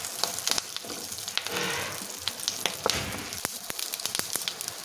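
Garlic cloves and curry leaves frying in oil in a pan as a tempering for snake gourd chutney, a close, steady sizzle broken by frequent sharp crackles and pops, with no talk.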